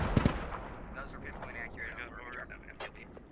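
Distant mortar fire in a military tactical video game, a few low booming explosions and thuds early on, followed by faint scattered rumbles and background noise.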